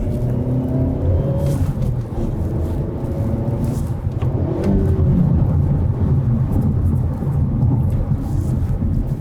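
A 2025 Hyundai Elantra N with a manual gearbox, driving in Sport Plus mode, gives a loud, continuous low engine and road rumble from inside the cabin, with no talking.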